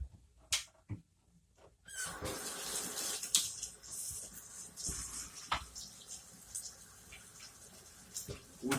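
Tap water running into containers, a soft gushing stream starting after a couple of quiet seconds and continuing with intermittent knocks and clatter, fairly faint overall.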